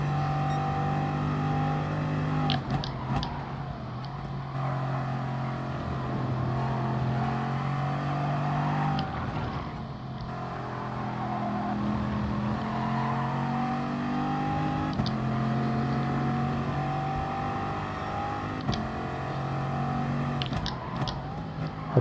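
Race car engines in the GT Sport racing game, a continuous droning whine that rises and falls with gear shifts and revving, with brief sharper bursts, steady and fairly loud throughout.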